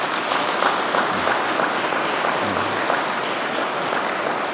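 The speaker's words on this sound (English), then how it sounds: "I think we give Auntie Kathleen a round of applause." Steady, dense applause from a crowd at a funeral Mass, clapping continuously at an even level throughout with no break.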